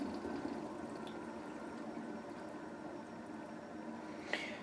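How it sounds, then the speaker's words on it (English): Water runs into a toilet tank as it refills, a quiet steady trickling and hiss heard alone and continuous throughout. "You can actually hear the water running in now."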